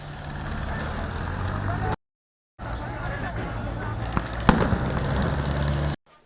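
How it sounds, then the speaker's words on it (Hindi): A tractor driven by protesters over a road divider in Delhi's ITO area while police try to stop it: a heavy, continuous engine rumble with muffled voices in the background, broken by a brief dropout midway and a sharp knock near the end. "प्रदर्शनकारियों ने डिवाइडर के ऊपर से ट्रैक्टर दौड़ा दिया"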